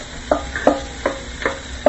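A spoon stirs seasoned mirepoix in a gumbo pot, giving about five quick scraping strokes at a steady pace over a soft sizzle.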